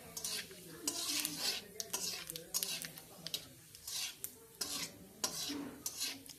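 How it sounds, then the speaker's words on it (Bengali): A tempering of one dried red chili and panch phoron being stirred in a pan, with repeated metal spoon scrapes and clinks over a light sizzle, close and rhythmic, with a voice talking softly underneath. "ফোড়নটা দিয়ে দিচ্ছি শুকনো লঙ্কা একটি আর পাঁচফোড়ন। ফোড়নটি একটু নাড়াচাড়ার পর"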